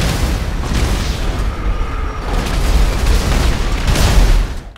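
Bombs going off during a GTA car race packed with explosives, heard as a loud, continuous rumble of booming blasts, with no talking.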